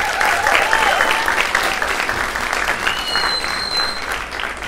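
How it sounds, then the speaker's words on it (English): Sustained applause from a large audience, including people up in a balcony, cheering a school band of fifth and sixth graders after a concert; the dense clapping stays loud and even, fading only slightly toward the end. "they're all clapping for you, and they should"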